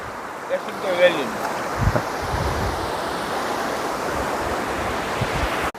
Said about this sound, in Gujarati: આ નદીની અંદર હું ઊભો છું અને આ નદી હાયલી જાય છે